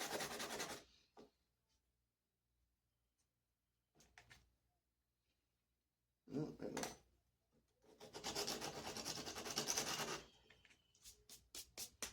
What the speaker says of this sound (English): if you use something like 60 grit, you can get a point on it by doing this